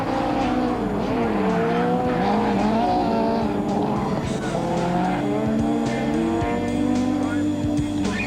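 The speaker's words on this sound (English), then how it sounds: "Plenty of action and superb car control from Piazzamuso" A Toyota rally car is driven hard on a special stage at the 1999 Rally of South Africa, its engine revving and shifting steadily with tire scrabble, loud and continuous, with faint background talk.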